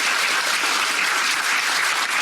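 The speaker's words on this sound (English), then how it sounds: "I'd like another round of applause for Senator Hirono" A lecture audience at a graduating class event breaks into another round of applause for Senator Mazie Hirono, a loud, dense wash of clapping that stays even and unbroken throughout, with no speech over it.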